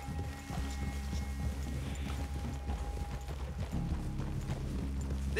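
Horse hooves clip-clop in Red Dead Redemption 2, a steady run of soft hoof thuds over a low, continuous background hum, with a faint tonal line in the first part.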